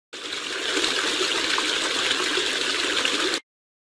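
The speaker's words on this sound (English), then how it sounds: "When a river flows over a cliff, it creates a waterfall." Waterfall where a river pours over a cliff, a steady broadband roar of rushing water held at even loudness for about three seconds before cutting off abruptly.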